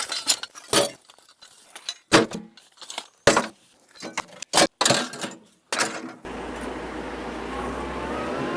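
Metal pieces clink and jangle in sharp, irregular bursts as they are picked up one after another; a steady low rumble takes over near the end.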